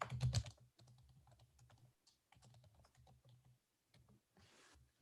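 Keys clatter on a computer keyboard in a quiet meeting room, a loud burst at the start followed by irregular runs of soft clicks, with a brief hiss near the end.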